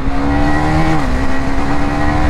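A KTM Duke 390 BS6 motorcycle engine revs close by, a loud sustained drone whose pitch dips slightly and then holds steady for a couple of seconds.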